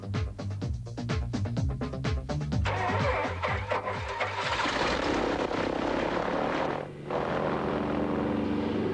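A mail plane flies over the Australian Outback, its propeller engine droning loudly and steadily. The sound is heard close by and without any talking, with a brief dip in the roar near the end.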